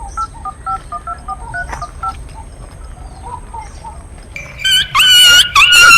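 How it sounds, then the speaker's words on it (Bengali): A telephone is dialed in a Bengali comedy sketch: a quick series of short keypad tones, then louder rapid electronic warbling bursts as the call connects, with faint chirps in the background. "রিপোর্টারকে ফোন কর।"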